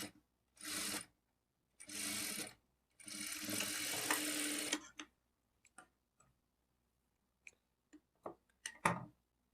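A sewing machine stitches a blouse panel in three short, close bursts, the last one longest, followed by scattered light clicks and handling taps in a quiet room.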